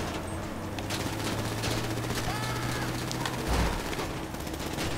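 Video game gunfire, a dense crackle of rapid shots running throughout at moderate loudness, with voices talking over it.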